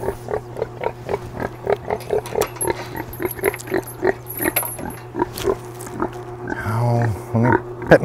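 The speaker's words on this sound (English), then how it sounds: "Pet my pig here." A pig on a farm pasture grunts and oinks in a steady series of short, close, rhythmic grunts lasting several seconds, with a longer, louder snort near the end.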